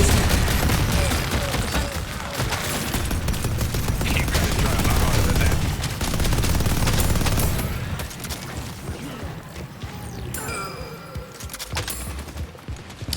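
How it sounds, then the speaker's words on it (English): Turrets rattle off sustained automatic fire in a Deadlock turret build, a loud, continuous stream of rapid shots that thins out toward the end amid other game sounds. "provide the cover fire in the back line with the turrets"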